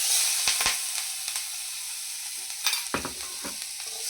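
Coarsely ground dried bombil fish chutney mixture roasts on a hot tawa with a soft, steady sizzle, broken by scattered scraping and stirring clicks.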